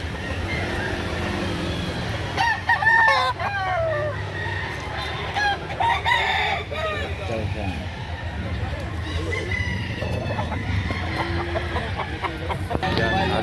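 Roosters crow repeatedly over steady chicken clucking at a market in Lipa, Batangas, nearby and fairly loud, with people talking underneath and a constant background hum.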